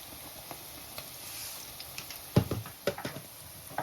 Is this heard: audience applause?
no